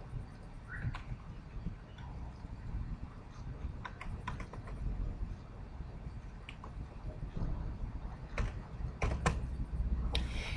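Steady typing on a computer keyboard as a password is entered, a dense run of near, fairly soft key clicks with scattered sharper taps, continuing for about ten seconds with no talk.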